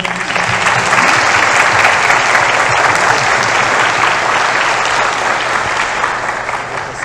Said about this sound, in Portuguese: pedir uma salva de palmas